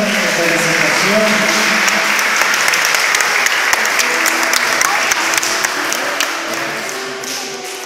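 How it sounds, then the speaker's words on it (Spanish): Loud, dense applause from a crowd at a baptism celebration, sustained for several seconds with sharp individual claps over a steady wash, voices audible underneath. "les damos un aplauso a estas niñas por esta presentación"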